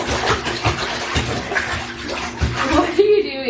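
A small child splashes about in a bath at home, producing continuous nearby watery sloshing with rhythmic slaps and a brief high squeal near the end.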